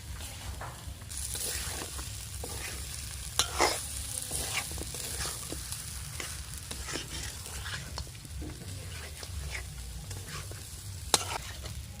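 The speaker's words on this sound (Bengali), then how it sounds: "আলু দেওয়ার পর আর একটু কষিয়ে নেব ভালো করে" Duck meat and potatoes stir-fry in a pan: a close, steady sizzle broken by repeated scraping strokes of a spatula, with a couple of sharper clanks against the pan and no voices.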